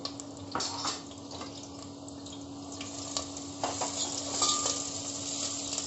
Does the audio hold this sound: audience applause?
no